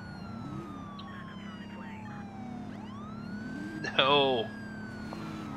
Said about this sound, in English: why don't civilians react to the cop sirens?